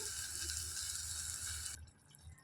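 Water pours from a tap into a blender jar to rinse it in a home kitchen, a steady rushing stream that stops abruptly near the end, leaving quieter room noise.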